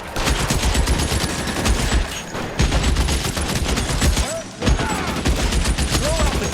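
Bursts of gunfire from the crime video game L.A. Noire, rapid overlapping shots in loud fusillades with brief pauses, under shouted game dialogue.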